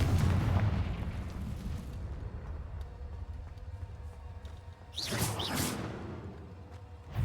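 The Confringo fire spell in Hogwarts Legacy goes off with a booming blast and a fading rumble, followed a few seconds later by a second whooshing burst, with game sounds faint in the background.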